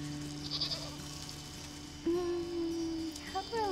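A goat in the Wytchwood video game gives a few short bleats, with a longer wavering bleat midway, heard over soft game music and ambient tones, no talking.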